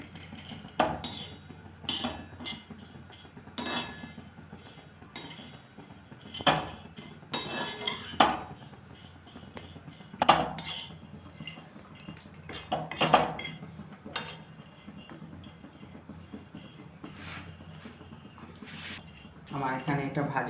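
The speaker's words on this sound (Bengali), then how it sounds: "আমি এখানে সিমইটা একটুখানি নেড়ে নিচ্ছি।" Vermicelli being stirred and fried in a pan for sewai paayesh, a utensil scraping and clinking against the metal in irregular strokes with several sharper knocks, fairly close and moderately loud over a low steady background.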